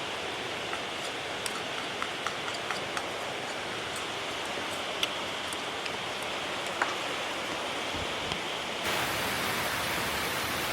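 Steady rain hissing down on its own, with scattered drops striking a surface up close. The patter grows slightly heavier toward the end.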